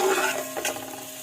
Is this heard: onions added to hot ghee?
yes